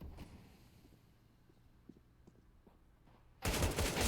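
Counter-Strike match with an AK rifle facing a USP pistol: sparse faint clicks and soft scattered shots through most of the clip, then a sudden loud dense burst of gunfire at the end.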